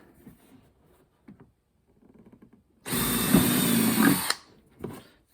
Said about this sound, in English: Then we're going to drill another one on the outside.